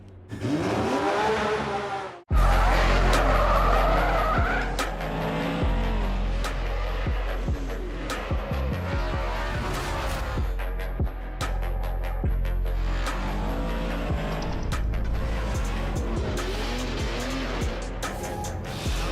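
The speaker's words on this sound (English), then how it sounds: "Nice drifting, Freddie." A Formula Drift pro race car drifts at the St. Louis round, its engine roaring loud and near with long tire squeals and revving throughout, a brief cut near the start.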